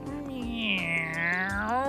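A single drawn-out cat meow, rising then slowly falling, clear and close with a faint background hum.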